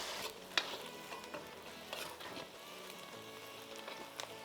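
Onions going into a pan of hot oil just after fish has been fried, giving a steady sizzle with stirring scrapes and a few sharp clinks of utensil on pan throughout.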